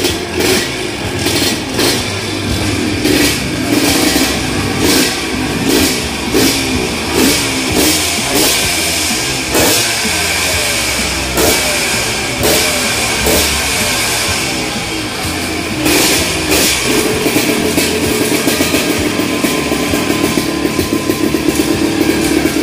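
A Yamaha DT100 motorcycle engine runs close by, its loud revving rising and falling in pulsing bursts over a steady throaty idle throughout, with no talking.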